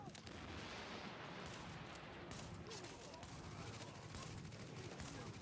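Combat in The Division video game: a dense, continuous barrage of gunfire and blasts, with a grenade thrown among enemies, a noisy, fairly faint wall of shooting with voices mixed in.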